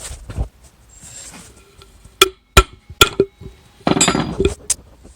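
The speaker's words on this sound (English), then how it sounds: "give this a couple love taps with a hammer" A few sharp metallic hammer taps on a car driveshaft's universal joint, spaced irregularly, ring out against a quiet background with small clinks and shuffling between them.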